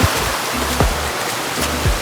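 A waterfall on a hillside hike rushes steadily, a broad continuous wash of water near the listener with a few soft knocks and bumps under it.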